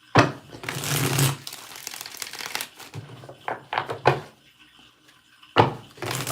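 Tarot deck shuffled in several separate bursts of soft papery riffling, close up, with quiet gaps between and a final shuffle near the end.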